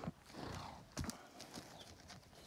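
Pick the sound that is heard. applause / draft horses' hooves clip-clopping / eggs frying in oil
draft horses' hooves clip-clopping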